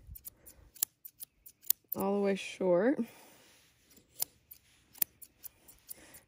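Scissors snip through a doodle's coat during grooming, quick sharp clicks scattered across the clip, with a short burst of speech near the middle.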